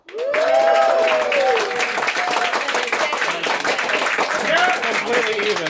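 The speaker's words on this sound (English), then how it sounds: "Give up a round of applause for Shota." A stand-up comedy audience in Tokyo breaks into loud, sustained applause for a comedian, steady dense clapping mixed with cheers and shouting voices throughout.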